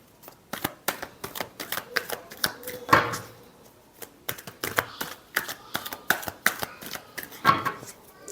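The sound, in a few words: shuffling tarot cards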